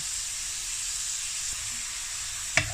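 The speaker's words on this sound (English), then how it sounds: "we're going to cook this until it's nicely done and there's no pink bits left" Ground meat for a pasty filling frying in a pan, giving a steady even hiss with a single sharp clink near the end.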